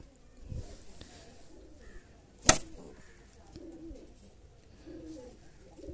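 Soft low cooing from an agitated pigeon on its nest with eggs close by, with a single sharp click or knock partway through and faint rustling around it.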